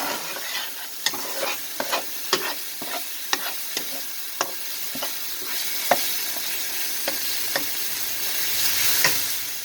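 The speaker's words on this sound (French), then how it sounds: "On va laisser cuire. On va remuer un peu." A chickpea masala curry sizzles in a pan while a utensil stirs it, with repeated scraping strokes in an uneven rhythm over a constant close frying hiss and no voices.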